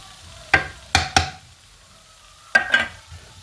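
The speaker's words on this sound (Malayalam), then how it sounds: "ജിഞ്ചർ ഗാർലിക് പേസ്റ്റ് ഒന്ന് ഇളക്കി യോജിപ്പിച്ചെടുക്കാം." Ginger garlic paste frying in a kadai for kadai chicken, stirred with a spoon in a few scraping strokes, two quick pairs of close clattering stirs separated by a pause over a faint sizzle.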